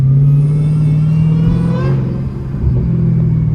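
A deep Dodge Hellcat engine, hood removed, burbles and rumbles steadily, with occasional revs and crackles rising over the low throb, close by; a voice briefly exclaims.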